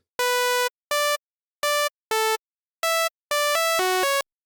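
A Serum synth pluck built from a default-wave oscillator layered with a sine oscillator plays a short melody of bright, harmonically rich notes, evenly spaced at first and then quicker and overlapping at the end, heard alone.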